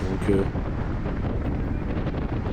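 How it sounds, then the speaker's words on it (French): Strong wind at an outdoor cycling race in Pommeroeul, the first of the season, buffets the microphone with a continuous loud rumble, and a brief voice fragment cuts in near the start. "Mais le vent, il était énorme."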